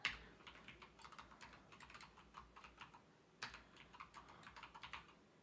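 Someone types quickly on a computer keyboard, making a close run of light key clicks with a brief pause partway through. Nobody speaks.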